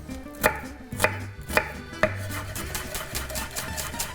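Knife chopping a shallot on a board for pumpkin and gorgonzola risotto, four sharp separate cuts followed by quicker lighter chopping, close and clear with no talk.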